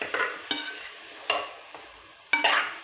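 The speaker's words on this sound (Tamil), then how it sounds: "இது பாதி உருளைக்கிழங்கு எல்லாம் போட்டு நல்லா வதக்கணும்" Carrot and potato pieces being sautéed in a pan, with several distinct scraping stirs of a spoon at irregular intervals over a soft background sizzle, close and moderately loud.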